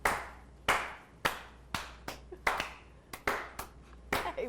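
Slow, separate handclaps at a live comedy talk show, about a dozen sharp crisp claps spaced irregularly and close by, some doubled, with quiet gaps between them and no speech.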